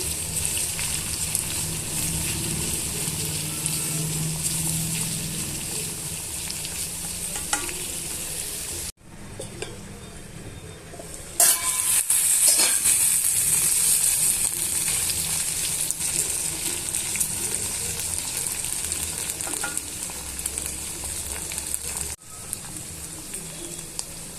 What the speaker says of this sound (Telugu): బెండకాయ ముక్కల్ని ఇలా జిగురు పోయేంత వరకు వేయించుకోండి